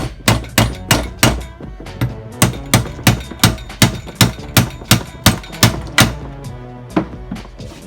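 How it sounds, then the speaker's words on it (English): Repeated hammer blows driving a pool-ball shifter knob onto a car's shift lever, about a dozen sharp, loud, evenly spaced knocks ringing close by with no talking. "Hammer it on there."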